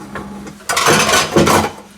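A large metal pressure cooker is handled close by in a kitchen, giving two loud clattering, scraping bursts of metal contact after a quieter stretch, with no speech.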